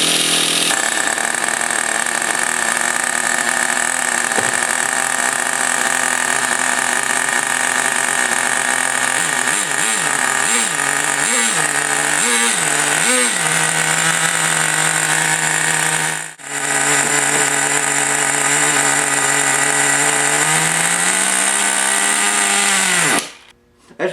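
A Traxxas T-Maxx nitro RC truck engine runs loud and close, a constant high-pitched buzzing whine that surges and dips in pitch through the middle. It cuts out for a moment, keeps running, and then dies at the end.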